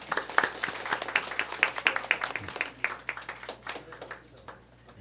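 Applause from residents at a community briefing on a Seongnam new-town redevelopment district, a dense patter of many hands clapping that builds and then thins out over several seconds.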